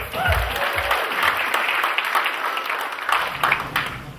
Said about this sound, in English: Ladies and gentlemen, please, a round of applause for Hiten.